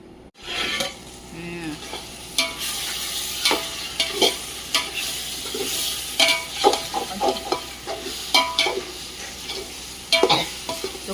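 Mutton for a village-style biryani fries over a wood fire while a ladle stirs and scrapes the pot, producing a close, busy sizzle with irregular clanking strokes throughout.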